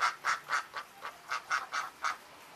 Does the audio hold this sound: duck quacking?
yes